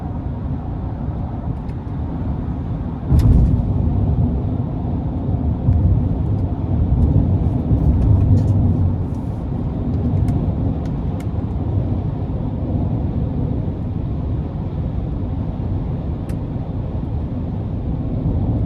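A steady low road rumble and hum fill the cabin of a 2022 Chevrolet Silverado 1500 LT pickup with the 5.3 engine, cruising at highway speed. Tire and wind noise hold even throughout, with a brief louder swell early on.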